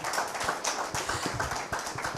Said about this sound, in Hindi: तालियां बहुत ठंडी आ रही हैं